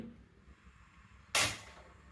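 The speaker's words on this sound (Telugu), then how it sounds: "స్టవ్ వెలిగిస్తున్నానండి" A gas stove is lit in a home kitchen while bitter gourd is being cooked, giving one sudden bright click-whoosh of ignition near the end after a quiet stretch, then a fading hiss.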